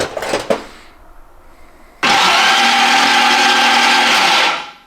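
A brand-new Toyota engine with no compression on one cylinder cranks on its starter during a compression test: a sudden, loud, steady mechanical whir that runs for about three seconds, then stops, after a few faint clicks.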